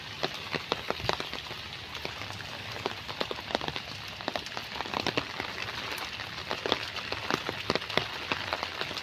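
Steady rain falls at the Bangladesh National Zoo, pattering densely on a nearby surface with scattered sharper drips, no voices.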